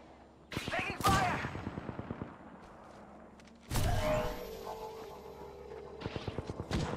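Automatic gunfire in a video game, with rapid bursts of shots opening the clip and returning near the end, separated by loud impacts and game effects.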